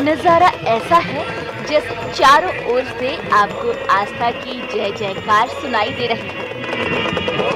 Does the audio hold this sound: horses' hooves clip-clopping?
yes